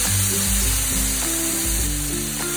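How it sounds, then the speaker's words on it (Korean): Julienned mushrooms and meat sizzle loudly in a hot pan while being stir-fried for japchae, a steady frying hiss with occasional stirring scrapes. "반쯤 익으면 채친 버섯을 넣고 함께 볶으세요"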